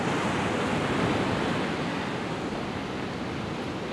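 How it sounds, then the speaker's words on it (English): Large ocean waves break and wash up onto a beach in a continuous roaring surf, loud and close, with some wind buffeting the microphone and no voices. "the waves are pretty big"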